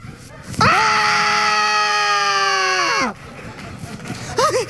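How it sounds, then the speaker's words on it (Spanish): A single loud, sustained scream lasting a couple of seconds, cutting off sharply, followed by brief quieter sounds. "¿Qué fue ese grito?"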